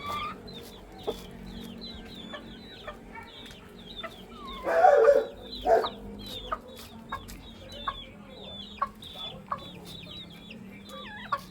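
Backyard chickens, hens and a rooster, cluck and murmur while being fed corn, with scattered sharp calls and a louder burst of squawking midway.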